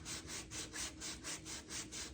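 Wet sanding paint on a Corvair body gives a faint, close, rhythmic back-and-forth scrubbing, about nine even strokes with no talk.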